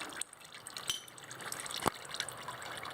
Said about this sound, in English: look at all that oil, the fountain of oil that's splashing all over me